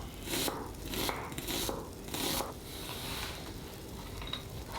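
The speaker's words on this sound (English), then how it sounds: "And I first slice the onion into half rings." A knife slices an onion into half rings on a cutting board, a handful of crisp cuts and scrapes at an uneven pace, close and clear, with no voices.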